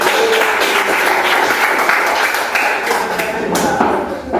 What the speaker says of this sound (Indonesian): Oke, tepuk tangan untuk mereka dulu.